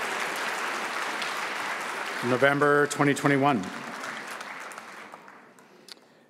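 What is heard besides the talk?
audience applause for graduates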